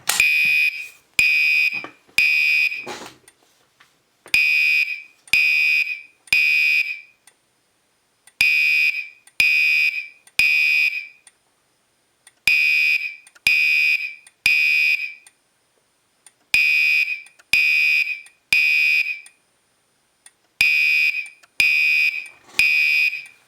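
A Gentex GECB24-PWB Commander 3 fire alarm notification device sounds alone in a loud, repeating temporal pattern of three sharp electronic horn blasts followed by a pause, cycling about six times.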